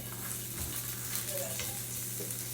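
Sausage frying in a pan for a breakfast sandwich, a steady low sizzle continuing throughout at moderate level with no talk.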